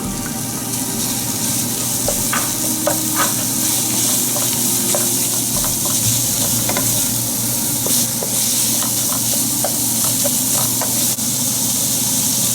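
Ground pork seasoned with allspice sizzles steadily in a pan, a loud continuous frying hiss with occasional light stirring scrapes, no one speaking.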